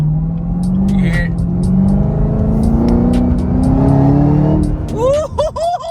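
A Camaro ZL1 1LE engine drones and climbs steadily, loud and close from the cabin, with rising pitched sweeps, sharp clicks and a voice breaking in near the end.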